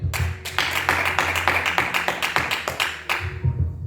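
A church congregation applauds together, a dense burst of steady clapping that runs for several seconds before tailing off.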